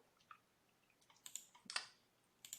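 A handful of faint, quick computer-keyboard clicks tapping out a web search, coming in short irregular bursts in a quiet room.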